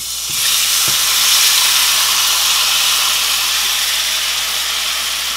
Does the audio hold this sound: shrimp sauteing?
yes